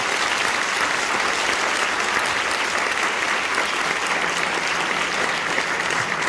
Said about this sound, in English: So please give a round of applause to them as a whole.